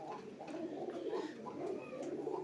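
Indian Lotan pigeon, a young male kept at home, coos in repeated low throaty phrases at close range, with a steady rolling rhythm and no talk.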